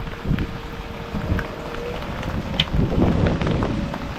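Strong wind from typhoon Pepito gusting outdoors, with a steady rushing roar and buffeting against the microphone, swelling louder toward the end.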